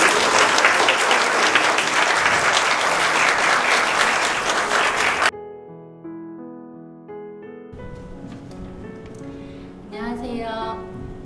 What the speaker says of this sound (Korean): 큰 박수 부탁드리며 이상 발표를 마치겠습니다.